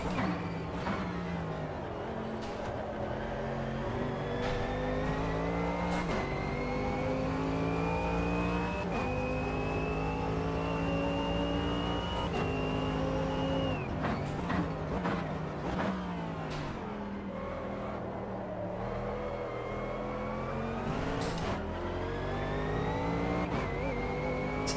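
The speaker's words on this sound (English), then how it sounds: "Such a thunderous noise, the AMG." A Mercedes AMG race car engine roars in a racing video game, a loud, thunderous, steady drone climbing through gears with repeated upshift breaks and rev drops, several sharp shifts in a row, alone without talk.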